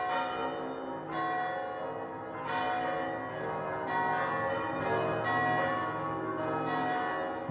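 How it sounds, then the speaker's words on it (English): Church bells peal across the South, several bells layered in a full, sustained clangor with fresh strikes arriving every second or so, loud and reverberant with no voices. "Bells ring throughout the South."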